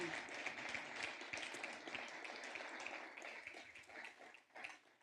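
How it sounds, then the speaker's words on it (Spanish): A church congregation claps together during a sermon, a continuous, crowded patter of hands that stays fairly even and distant-sounding throughout, with a slight swell near the end and no talking over it. "Dale un aplauso si lo crees en el nombre de Jesús"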